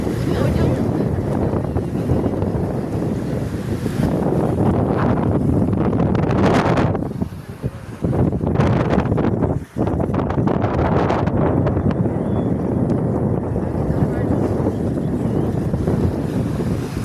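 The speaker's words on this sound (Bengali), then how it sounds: "কি সুন্দর ঠান্ডা বাতাসটা" Cool wind sweeps across a beach in Jeddah, Saudi Arabia, buffeting the microphone in loud continuous gusts over the wash of sea waves, with brief dips and occasional voices.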